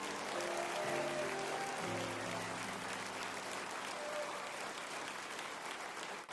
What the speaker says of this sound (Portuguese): Vamos dar mais uma enorme salva de palmas para todas essas pessoas.